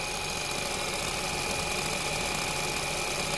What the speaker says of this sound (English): So engine is running.